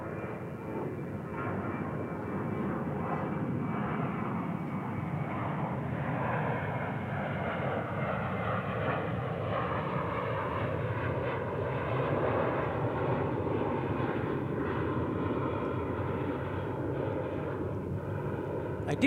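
An airliner departing DFW International Airport on north flow roars continuously at a distance, a broad steady engine rumble holding for the whole stretch without letting up.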